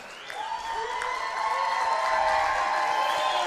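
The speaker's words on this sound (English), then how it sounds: "Mom got a bigger cheer." A wrestling arena crowd cheers and applauds for a wrestler's mother, a steady, swelling roar of many voices with clapping, fairly close and sustained.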